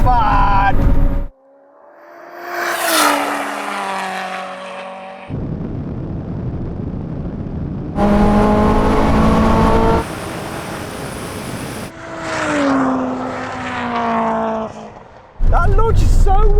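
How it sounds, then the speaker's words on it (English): A tuned 700-horsepower Toyota Supra drag car with a 2JZ engine launches hard, loud, rising engine howls broken by abrupt cuts and scene changes, with a voice talking over parts of it. "He had a good launch there, but this thing is so quick. This is proper 2JZ fun!"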